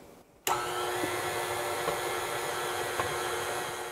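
An electric mixer beats dry ingredients into a butter mixture for a keto Italian cream cake batter, starting abruptly and then holding a steady, close, continuous whirring drone with no talking.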